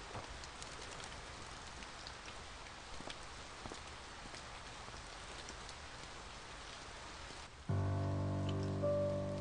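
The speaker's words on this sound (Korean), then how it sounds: "비가 오네." Rain falls steadily in the pixel-art video game A Bird Story, a dense even patter throughout, with a soft musical tone entering near the end.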